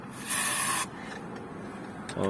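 Aerosol cleaner is sprayed into a car's ventilation vents with the AC off and the fan blowing: a single loud, steady hiss of about half a second, then quieter background.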